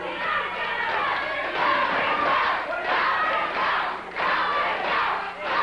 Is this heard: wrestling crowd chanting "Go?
yes